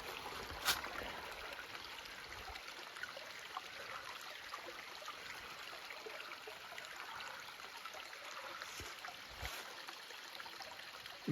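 A clean, spring-fed creek trickles steadily through mossy, sunlit woods, a continuous soft close-by rush and babble with a few brief louder splashes, no voices.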